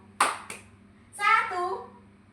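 Children in a classroom clapping game, a couple of sharp hand claps followed by young voices chanting together, close and fairly quiet.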